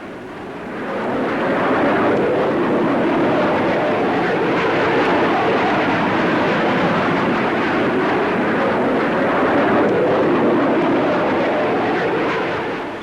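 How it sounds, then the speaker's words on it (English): A de Havilland Comet jet airliner with four Rolls-Royce Avon engines roars past overhead, a broad, steady rushing jet noise that swells in quickly, holds loud for about ten seconds, then begins to fade. "Powered by 4 Rolls-Royce Avon jets, this aircraft will fly from London to Johannesburg via Cairo and Nairobi in just over 15 hours."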